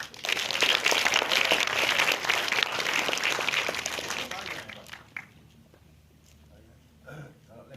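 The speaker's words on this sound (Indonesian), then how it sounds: "Tepuk tangan buat ini." An audience at a panel discussion on the Netflix series Gadis Kretek claps loudly for several seconds, then the applause fades out into a quiet room.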